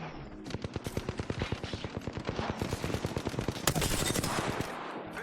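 Rapid automatic gunfire in the shooter game Apex Legends, a dense run of sharp repeated shots that keeps up loud and steady from start to finish, with no talk over it.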